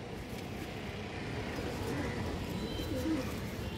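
Pigeons, including an old-line ring-eyed male, coo softly amid a low ambient murmur, with a couple of brief coos standing out near the middle and end.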